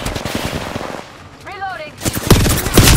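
Rapid bursts of video game gunfire crackle in dense volleys, falling away briefly before loud shots return near the end, with a whistling electronic sweep in the quieter middle.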